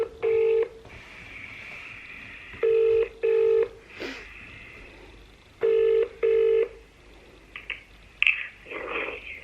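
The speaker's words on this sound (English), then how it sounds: "Dial option 2." A telephone keypad dialing a menu option, clear electronic tones in short paired beeps repeated in three groups, close and loud, followed by a few brief clicks and faint ringing sounds.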